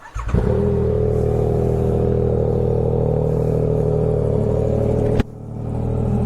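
A Yamaha R9 motorcycle fitted with a DominatoR GP3 exhaust cold-starts with a sharp catch, then settles into a loud, steady, throaty idle close by before cutting off abruptly near the end.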